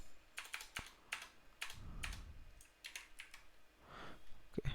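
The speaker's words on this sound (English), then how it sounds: "what we can do is just type in our question" Quiet, irregular keystrokes on a computer keyboard, clusters of light taps with short pauses between them, close and faint with no talking.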